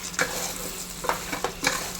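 Chopped mango for Kerala-style manga perattu is stirred in a frying pan, several distinct scraping strokes of the spoon over a low sizzle, close and clear with no talking.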